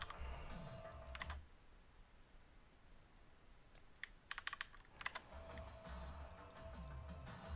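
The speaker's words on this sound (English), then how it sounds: "You will type that in." Keys tapped on a computer keyboard while entering a password, in short bursts of typing separated by pauses and a soft, steady background hum.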